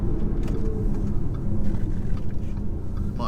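A 2015 Audi Q5 on the road, heard from inside as a steady low engine and road rumble for a few seconds, with no talk over it.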